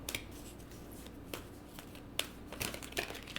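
Tarot cards are shuffled and drawn by hand, making soft riffling swishes and sharp slaps as the cards are handled close by.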